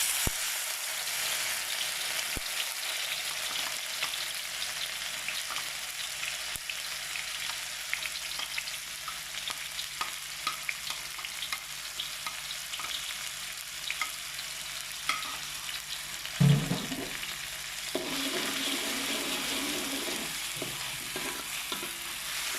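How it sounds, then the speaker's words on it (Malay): Urad dal frying in hot ghee in a pan, a steady close sizzle with a loud burst as the dal goes in near the middle, then continued crackling frying with no talk. "Okey, biarkan dia panas. Lepas tu kita akan masukkan kacang ulunda."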